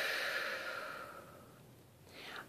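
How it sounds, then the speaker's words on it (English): A slow, deep breath taken during an EFT tapping session for depression: a long soft exhale that fades over about two seconds, followed by a brief quieter inhale near the end, with no talking. "Take a deep breath on that one."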